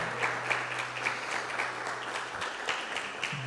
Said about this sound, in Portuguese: Dê uma forte salva de palmas ao Senhor